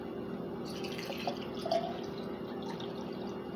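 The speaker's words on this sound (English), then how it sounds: "I'm gonna put some water" Water poured into a glass with ice gives faint trickling and a couple of small clinks and drips, soft and close, with no talking.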